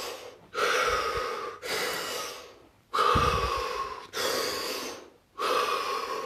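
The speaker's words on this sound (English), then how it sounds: "take 3 deep breaths." Slow, deep breaths taken close to the microphone during a guided relaxation session, with long airy inhales and exhales in a steady rhythm and no speech.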